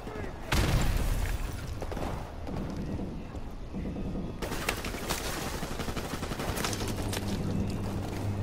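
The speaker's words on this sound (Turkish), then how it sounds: "Bana kim sıkıyor lan?" Dense gunfire in Call of Duty 4: Modern Warfare crackles in rapid bursts and sharp shots, loud and continuous, with a voice talking over it.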